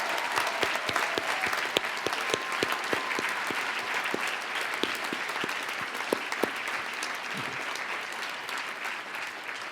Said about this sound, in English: Please join me in another round of applause for this remarkable group of students.